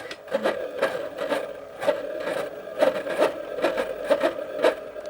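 A Cricut Mini cutting machine at work, close up, whirring steadily with a motor hum and repeated short scraping and clicking passes as the carriage moves back and forth.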